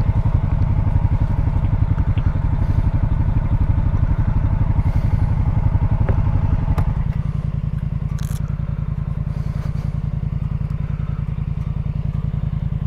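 Motorcycle engine idling close by at a campsite, a loud steady low rumble with even rapid firing pulses throughout, a few faint clicks and knocks over it, no talk.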